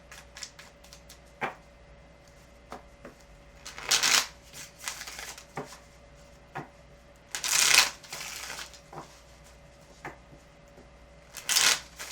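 Tarot cards are shuffled close by in several quick riffling bursts, separated by quieter taps and handling sounds, with no talking.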